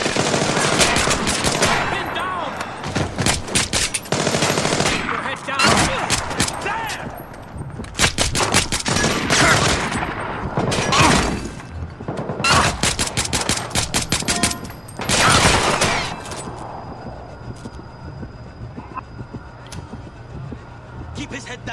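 Automatic and rifle gunfire from the Splinter Cell Blacklist video game rattles in loud, dense bursts. The bursts are separated by brief pauses and close with scattered shots and game ambience.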